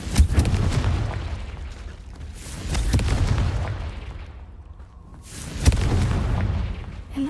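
Several booming blasts from the Confringo fire spell in Hogwarts Legacy go off in a cave, heavy low explosions with rumbling tails that swell and fade, the sharpest one arriving near the end.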